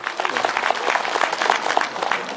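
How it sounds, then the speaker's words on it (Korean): Audience applause at a Nonsan agricultural cooperative unity rally honoring former cooperative presidents: dense, steady clapping from a crowd filling the whole moment, fairly close and even in loudness. "다시 한번 박수 한번 쳐주세요."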